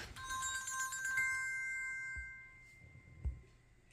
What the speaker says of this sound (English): Oh, there goes my phone.